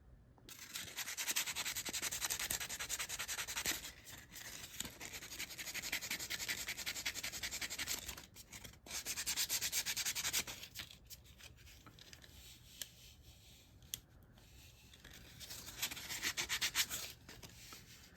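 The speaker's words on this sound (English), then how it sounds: "I'm going to sand a little bit of that out." Sanding air dry clay shaped into faux birch bark, a close, soft rasping rub in repeated strokes with short pauses between passes, quiet and without talk.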